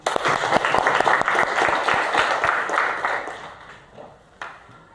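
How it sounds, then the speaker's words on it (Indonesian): A school class applauding together in the classroom: dense, steady clapping from many hands close by, gradually thinning out and fading, with a few isolated claps near the end. "Tepuk tangan untuk kita semuanya."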